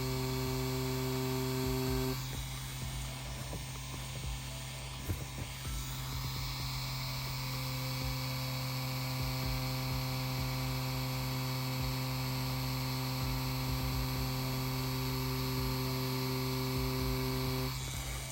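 A wireless tattoo machine running steadily while pulling lines, a constant close electric buzz with a strong hum holding evenly throughout, no talking over it.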